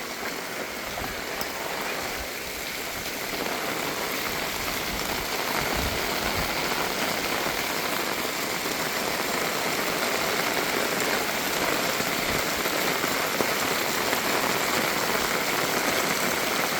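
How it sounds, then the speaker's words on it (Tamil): Dense, steady hiss of heavy rain in Jaffna, Sri Lanka pours down without a break, with a low engine-like rumble underneath. "இந்த மழை விடாமல் பெய்த்தண்டா ரெண்டு நாள்லேயே சரி"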